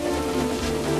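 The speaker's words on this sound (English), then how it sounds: "Wind and rain buffeted Edward" Steady rain sound in the Trainz 2009 train simulator, a dense, even hiss with no breaks, loud and close for about a second with no voices.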